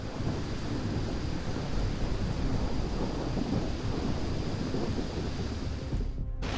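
Heavy, steady rain in Surat, India, roars continuously with deep thunder rumbling underneath, loud and close throughout, then cuts off abruptly at the end.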